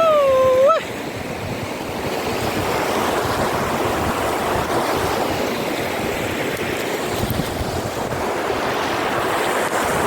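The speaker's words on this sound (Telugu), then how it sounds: "Water fall, super water fall బొమ్మా." Steady roar of rushing water from a waterfall near the Kotilingala temple in Adilabad, a continuous broad wash lasting throughout, loud and close, with a brief whistle-like tone at the very start and no talking.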